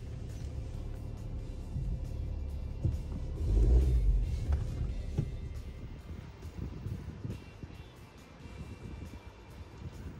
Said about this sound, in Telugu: ఎపాక్సీ అయిపోయాక కారు లోపల పెడుతున్నాం